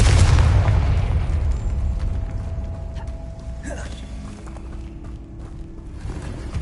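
A Confringo fire spell bursts in Hogwarts Legacy with a loud, broad boom at the start that rumbles and fades over several seconds into a lower game ambience, with a brief whoosh partway through.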